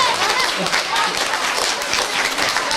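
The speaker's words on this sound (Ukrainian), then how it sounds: "Давайте гучними оплесками привітаємо день народження." Crowd at a children's art exhibition in a local history museum applauding a birthday, loud continuous clapping filling the room, with some voices mixed in underneath.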